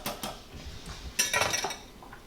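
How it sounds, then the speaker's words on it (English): A metal lid is set onto a pot of cooking grits, giving a few quiet clinks and a brief rattling clatter of metal on metal. "I'm gonna pop a lid on this"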